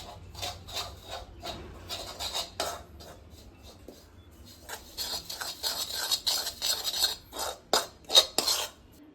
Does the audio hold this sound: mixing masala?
yes